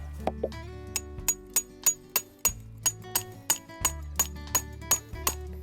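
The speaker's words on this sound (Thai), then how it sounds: "ในส่วนปลายของตัวเต็นท์นะครับก็ให้ตอกสมอลงไปได้เลย" Repeated sharp metallic hammer strikes driving a tent stake into the ground in an uneven rhythm, about a dozen blows, ringing close by over a low hum.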